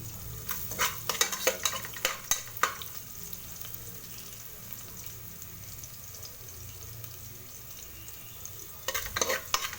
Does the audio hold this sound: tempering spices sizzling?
yes